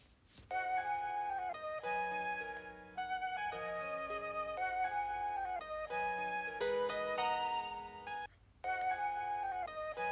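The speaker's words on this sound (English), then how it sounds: "the elusive flute and piano sample" Soft melodic music with sustained tonal notes, a gentle flute-like line over piano chords, playing continuously with brief pauses.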